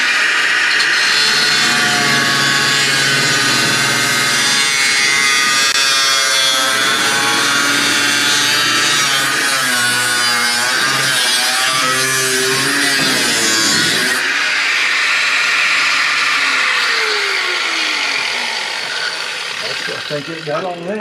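A power saw cuts through an old hinge on a 1941 Lincoln Zephyr, grinding and screeching loudly and continuously for about fourteen seconds before the pitch shifts and the cut tapers off.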